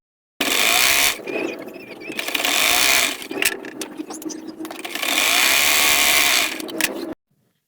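An electric sewing machine stitching the hem of a salwar, a loud close whirring drone in long bursts with brief pauses and clicks between runs of stitching.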